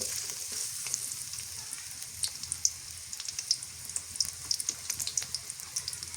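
Chopped onion fries in soybean oil in a pan for a home-style dal. It gives a steady, soft sizzle dotted with small crackles and pops, close up with no voices.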